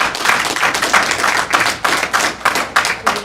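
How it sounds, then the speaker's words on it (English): Audience applause fills a school board meeting room, a loud burst of many hands clapping in dense, uneven waves that swell and dip throughout without any talk over it. "I appreciate the applause"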